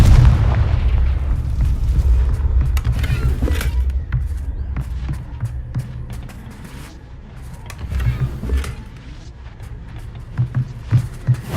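The Confringo fire spell detonates in Hogwarts Legacy, producing a heavy booming blast with deep rumbling low end, followed by smaller pops and crackling debris before a second swell of rumble.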